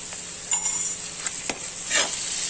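Onions and fenugreek leaves, seasoned with a little sugar, salt and turmeric, sautéing in a pan for dry methi bhaji: a bright, continuous sizzle close up, broken by a few quick stirring scrapes.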